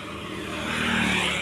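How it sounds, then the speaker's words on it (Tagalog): Vehicles race past on a roadside highway, a broad engine roar that swells steadily louder over a second and a half with no talk. "Malaki makina nung isa."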